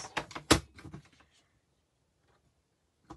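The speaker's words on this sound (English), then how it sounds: "for the longer piece, I am going to use the trimmer" A few quick scraping slices and clacks from a paper trimmer in the first second, then near silence before one last faint click.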